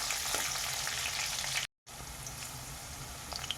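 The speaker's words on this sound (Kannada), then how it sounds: "ನೋಡಿ, ಬೆಳ್ಳುಳ್ಳಿ ಸ್ವಲ್ಪ ಚೆನ್ನಾಗಿ ಬೇಯ್ತಾ ಇದೆ." Garlic frying in a pan until golden brown gives a steady, dense sizzle, with a brief drop to silence midway before the even crackle resumes.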